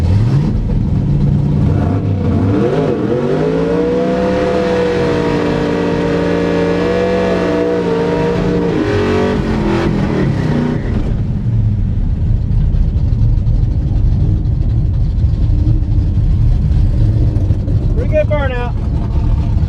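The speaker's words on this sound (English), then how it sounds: "Burnout." Old work truck with a 305 Chevy V8, SM465 four-speed and nitrous doing a burnout: a loud, sustained engine roar climbs and holds high revs for about ten seconds, then drops to a rough, rumbling idle with a brief squeal near the end.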